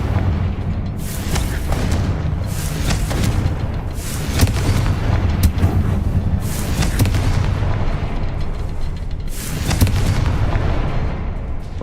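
Several heavy booms and blasts from the Confringo explosion spell in a Harry Potter video game, loud rumbling bursts spaced every few seconds over continuous noise, no talking.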